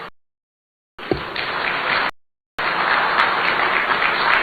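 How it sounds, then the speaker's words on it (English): Guests at a state banquet applauding, steady dense clapping in two bursts separated by short cuts of silence, moderately loud and without talk. "Please give yourselves a round of applause."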